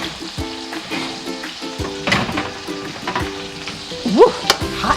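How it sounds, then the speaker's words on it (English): Sausage patties fry in a pan with a steady sizzle, punctuated by a few scraping and clattering sounds nearby. "I'm going to cut the heat down just a little bit on the sausage patties"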